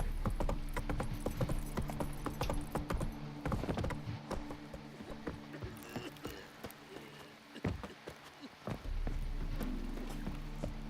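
Horse hooves clip-clop at a brisk gallop in The Witcher 3 video game, a steady rhythmic pounding under constant game background sound, fairly close and moderately loud.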